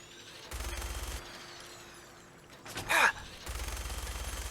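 A minigun in Fallout 4 fires in two sustained, rapid bursts of gunfire, one early and one at the end, separated by a brief sharp burst of noise in between.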